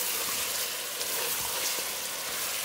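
Chicken pieces fry in a pan for haleem, giving a close, constant sizzling hiss with faint crackles and an occasional stir, steady throughout with no talking.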